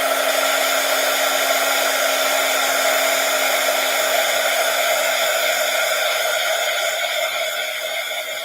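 A hair dryer blows steadily on painted envelopes, a loud, even whine with a constant hum that holds for the whole stretch and eases slightly near the end, with no talking.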